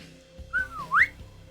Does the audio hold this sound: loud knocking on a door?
no